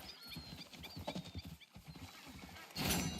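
Horse in Red Dead Redemption 2, its hooves clip-clopping steadily under a voice and game sounds, then a short whinny or snort near the end.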